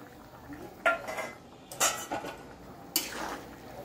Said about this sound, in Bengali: এবার আমি ভেজে রাখা ডিমটা দিয়ে দিচ্ছি